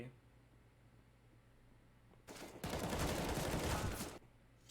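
Gunfire in a video game during a first-person shootout, a dense burst of rapid shots lasting about two seconds that stands out loudly over a quiet background.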